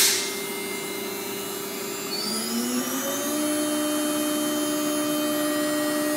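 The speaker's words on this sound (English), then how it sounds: "Colombo spindle with 8 position tool changer, and it's in the middle of a warm-up routine" A Colombo spindle with an 8-position tool changer on a MultiCam MG CNC router with a 5x12 table whines steadily during warm-up at 12,000 RPM, a loud sustained drone whose pitch rises slightly partway through.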